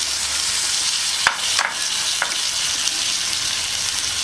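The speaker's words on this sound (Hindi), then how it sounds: "अब मैं इसमें आलू और गिलकी दोनों ही डाल दूँगी।" Potatoes and ridge gourd added to oil-rich masala sizzle steadily in a pan, with a few sharp clinks and scrapes of a spoon against the vessel over the continuous frying hiss.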